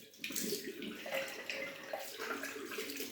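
Running water rinsing shaving soap away, a close, continuous splashing flow like a tap running into a basin, steady for the full few seconds.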